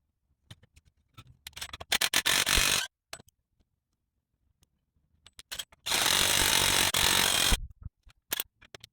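A hand ratchet tightening bolts on VF Commodore suspension, near and loud, in rapid clicking bursts separated by pauses.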